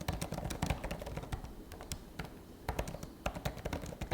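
Quick typing on a Logitech Combo Touch backlit keyboard case for the M4 iPad Pro, a close, brisk run of soft, crisp key taps with uneven rhythm and no speech.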